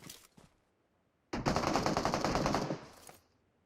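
Automatic rifle fire in the PUBG Mobile battle royale game: a long, rapid burst of close gunshots lasting over a second, preceded by a couple of brief faint shots, with no talk.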